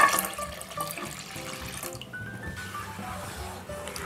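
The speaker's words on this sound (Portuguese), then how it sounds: "vou acrescentar 500 ml de água" Water pours into a pot already holding whole milk and sugar, a close, continuous splashing and trickling stream with faint clinks, heard without speech.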